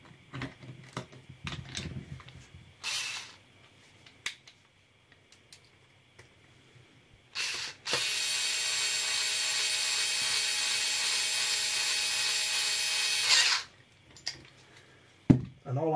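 A powered screwdriver drives 2mm screws into 7075 aluminium rear axle hubs for a Losi LMT: scattered clicks and handling taps, then a steady whirring run of about six seconds, with brief speech nearby.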